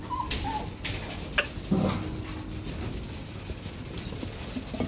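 A 55-day-old Rottweiler puppy whimpering in short, high, thin whines scattered across the moment, close by, mixed with light clicks and shuffling and no speech.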